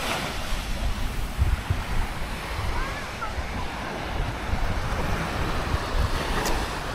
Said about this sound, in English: I love being near the sea, Texan. Just walking along it.